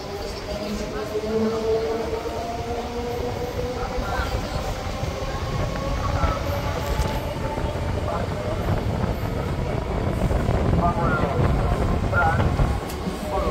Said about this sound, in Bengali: মেচেদা স্টেশনে এই মুহূর্তে আমাদের ট্রেন কিন্তু ক্রস করে চলে যাচ্ছে।